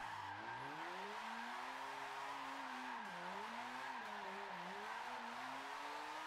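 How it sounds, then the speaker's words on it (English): A Mazda RX7 drifting in Forza Motorsport 7 with its tires spinning, a continuous squealing skid riding over a wavering, high-revving engine tone that rises and dips through the slide. "Tires are spinning up so much easier."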